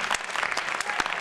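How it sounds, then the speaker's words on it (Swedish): Applause from a crowd at a street dance competition, a dense, steady clatter of many hands clapping close by for the whole short moment. "En stor applåd för"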